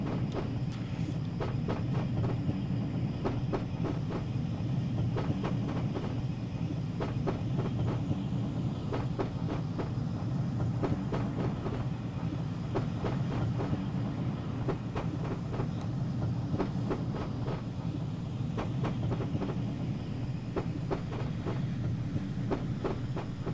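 Inside a passenger carriage pulled by a Castle Class steam locomotive on the Severn Valley Railway, a deep steady rumble rolls on under the repeated clickety-clack of wheels crossing rail joints in regular pairs, close and continuous throughout.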